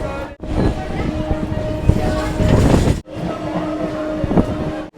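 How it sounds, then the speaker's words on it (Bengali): An AC local electric train stands at platform two of a station, giving a steady droning hum with sustained tonal whine and some indistinct background voices, briefly interrupted by two short dropouts. "এদিকে দু নম্বর প্ল্যাটফর্মে দাঁড়িয়ে রয়েছে এসি লোকাল"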